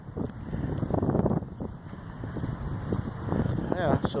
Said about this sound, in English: It would be nice and warm except for the wind.